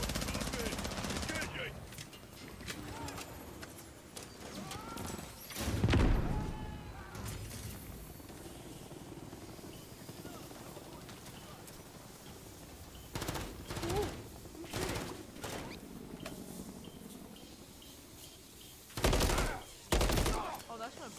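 Automatic gunfire aimed at a helicopter in Call of Duty Modern Warfare 3, sustained bursts of rattling shots with a heavy boom around the middle, mixed with radio chatter and further short bursts later.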